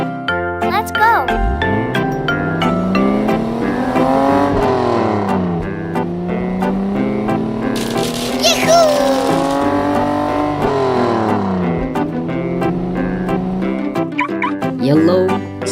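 A yellow toy sports car's engine effect revs with long rising and falling pitch sweeps, loud and continuous over playful background music with tinkling accents.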